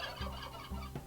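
Turkeys in the game Shroud of the Avatar: two short, faint gobbling clucks come about half a second apart over a quiet background.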